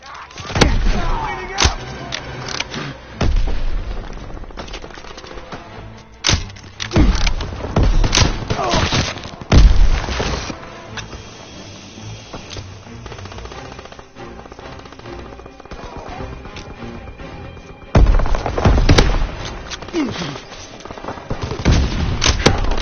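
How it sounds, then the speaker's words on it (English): Heavy explosive blasts and gunfire from enemy mortar fire in a WWII video game battle, loud booming impacts arriving in irregular clusters with quieter combat rumble in the gaps. "Enemy mortar fire incoming!"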